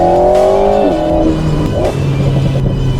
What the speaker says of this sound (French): C'est très bizarre d'entendre le moteur arrière sur une caisse comme ça